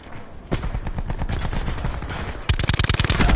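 KN-57 assault rifle fire in Black Ops 4 multiplayer, close, rapid automatic bursts of sharp cracks in quick rhythm, with a louder, denser string of shots kicking in partway through.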